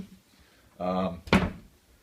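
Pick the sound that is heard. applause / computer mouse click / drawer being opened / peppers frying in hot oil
drawer being opened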